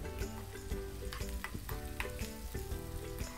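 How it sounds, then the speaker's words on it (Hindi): Garlic, ginger and red chili fry in oil over a low flame with a soft, constant sizzle and regular spoon scrapes against the pan, faint and close. "तो हमें इसे अच्छी तरह से अभी मिक्स करके फ्राई कर लेना है"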